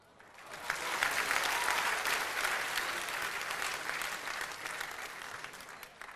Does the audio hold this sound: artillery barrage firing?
no